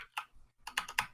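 Computer keyboard typing picked up close on a podcast microphone: one isolated key click, a short pause, then a quick burst of three or four sharp clacks, faint and with no talking.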